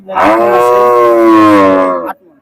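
A bull at the Hazratpur cattle market in Keraniganj, Dhaka, lets out a single long, loud moo close by, lasting about two seconds.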